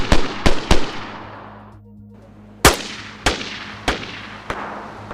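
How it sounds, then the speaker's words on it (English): Sharp pistol reports from a Makarov IJ-70 in DayZ ring out: three quick shots, a short pause, then four more spaced shots, each a loud crack with a booming tail. "The IJ-70 or Makarov has a unique sound up close, but surprisingly sounds the same as the FNX and Colt past 50 meters with a deep bassy sound"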